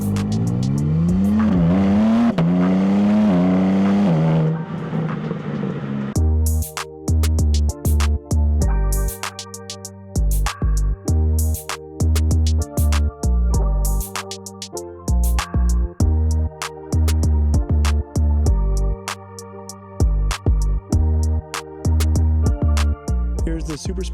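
BMW G8X M3/M4 engine revs hard and climbs in pitch on stock exhaust, then the car launches with rapid, choppy bursts of throttle and gear changes, loud and close.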